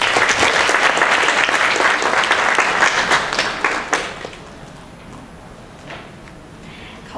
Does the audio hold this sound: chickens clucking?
no